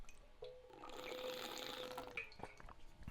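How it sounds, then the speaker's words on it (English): A water bottle gives off a strange, sustained whistling and gurgling noise at close range, steady for a few seconds before breaking into scattered clicks and bubbling at the end. "That's just my water bottle. It makes a very strange noise."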